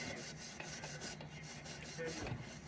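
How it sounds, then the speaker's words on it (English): Steel wool rubs over an old Rayo No. 65 lantern being restored, making a soft, steady back-and-forth scratching close by with no voices. "Let me do some steel wooling on it just because I feel like it."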